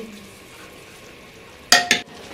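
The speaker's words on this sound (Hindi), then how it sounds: "अब हम इसको मिक्स करेंगे अच्छी तरह से।" Stirring mace, green chilies and salt in a cooking pan: a faint low sizzle, then two quick, sharp scraping clinks of a utensil against the pan near the end.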